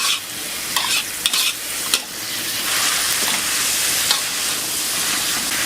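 Cabbage and egg stir-fried in a hot pan, a loud continuous close sizzle with scraping stir strokes early on, no talking.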